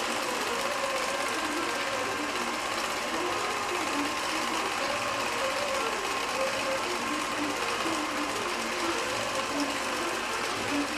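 A computerized longarm quilting machine stitches a pantograph pattern across a quilt, a continuous rapid mechanical whirring with a steady rhythmic pulse, close and even throughout.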